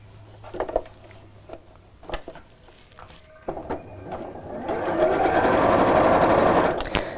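A sewing machine stitches contrast binding onto a quilted tote, starting with short stop-start bursts and clicks, then running in a steady, close whirring stretch near the end.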